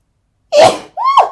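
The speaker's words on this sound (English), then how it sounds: "You're about to witness your first sneezing fit." Two quick sneezes in close succession, loud and near, each a sharp burst with a brief pause between them.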